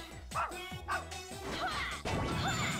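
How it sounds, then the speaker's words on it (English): In the God Hand video game, a boss's barking dog attack lands as several sharp barks and yips, mixed with crashing hit impacts and a whimper, loud and quick. "your attack is barking"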